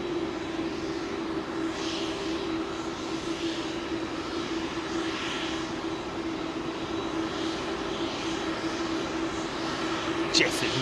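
An airliner departing Heathrow's runway 27L rumbles steadily in the distance, a broad continuous roar holding level throughout with a low drone beneath and no talk over it.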